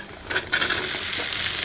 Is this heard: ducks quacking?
no